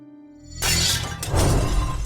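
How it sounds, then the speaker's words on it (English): Window glass shatters in a sudden loud burst after a low hum, with broken fragments tinkling and scattering for about a second and a half. "Then, mercifully, my window shattered"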